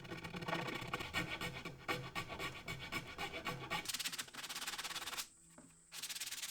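A rasp with nearly blade-like teeth shapes wood in quick, rhythmic rasping strokes, close and steady, then shifts to a harsher continuous scrape before a brief pause and another burst.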